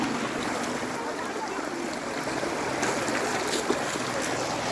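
Water gushes from a pump set into a farm well in a steady, hissing, splashing rush that continues evenly throughout, close and moderately loud, with faint voices in the background.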